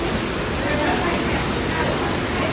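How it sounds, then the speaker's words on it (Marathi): Monsoon rain falling at the Marleshwar temple grounds, a dense, even hiss of downpour that continues unbroken through the short stretch. "त्यातच पावसाने हजेरी लावली"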